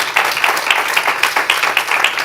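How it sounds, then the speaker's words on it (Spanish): A church congregation applauds in a dense, steady wave of clapping that fills the room, with rhythmic pulses running through it and no talking over it. "Dámele más fuerte el aplauso al Señor."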